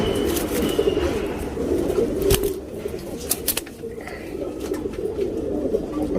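Tournament pigeons in Bangalore coo continuously in a low, warbling murmur. Scattered clicks and rustles come through close by.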